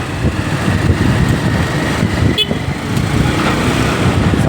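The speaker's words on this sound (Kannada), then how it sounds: "ಸಾಗರ ಫುಲ್ ಟ್ರಾಫಿಕ್ ಇರು." Road traffic in Sagar town on a drizzly day: a steady, fairly loud wash of passing cars and motorbikes rumbles without letup, with a brief sharp sound near the middle and faint voices underneath.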